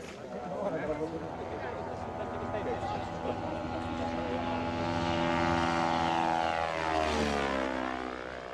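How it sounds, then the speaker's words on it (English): A light propeller aircraft, a Sky Aeroplane at a Comiso air show, drones loud and close throughout, its engine pitch shifting and sweeping near the end as it passes. "today Angelo is not at the controls, but is a passenger on a light aircraft, a Sky Aeroplane."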